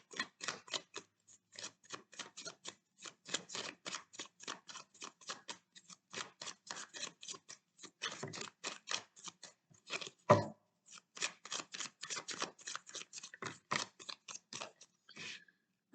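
Tarot cards are shuffled and laid out for a general reading, a long run of quick soft card snaps and flicks with a few louder slaps, close and crisp, no talking.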